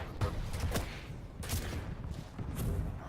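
Railgun and rocket fire in the video game Quake Champions during a tournament match, three sharp cracking shots spaced about a second apart with rumbling explosions between them, moderately quiet, mixed with game background.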